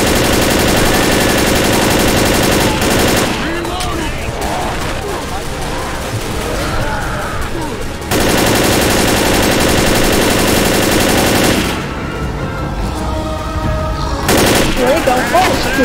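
Rapid automatic gunfire from a Left 4 Dead match, loud bursts spraying almost continuously across the clip with brief breaks, dense and close like a firefight in the game.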